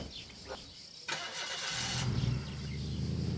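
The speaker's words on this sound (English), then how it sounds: "Wheeler got the musicians and their things in the car and cranked up the big Buick" A big old Buick's engine cranks briefly, then catches and fires up into a steady, rough idle close by, with no talking.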